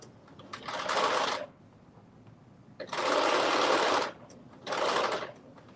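A sewing machine stitches a zipper onto a puffy-sleeved dress in three steady whirring runs of stitching, close and loud, with short quiet pauses between them.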